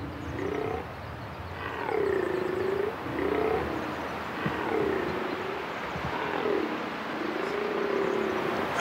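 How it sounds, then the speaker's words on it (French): A red deer stag bellows during the rut in Corsica, several hoarse, drawn-out roars repeating at intervals, moderately distant over a steady outdoor background. "Le brame du cerf, c'est le cri rauque, c'est la vocalise qu'émet le cerf, le mâle, donc, pendant la période de reproduction."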